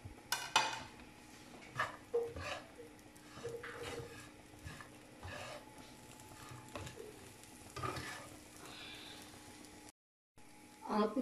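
Paratha filling made with chana dal, coriander, onion and green chilli is stirred and mixed in a bowl, giving faint scraping and clinking from a spoon in a quiet kitchen.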